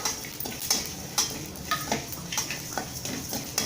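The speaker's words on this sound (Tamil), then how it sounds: "நல்லா வறுத்துக்கலாம்." Cumin and spices dry-roasting in a pan as a spoon stirs them, with repeated scraping and clinking strokes over a soft, faint crackle, close up and without talk.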